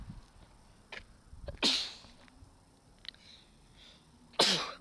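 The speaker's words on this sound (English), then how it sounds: "Okay, I've got the sneezes." Two sharp, close sneezes from a person about three seconds apart, set against a quiet outdoor background during a Nerf gun hide-and-seek game, with no one speaking.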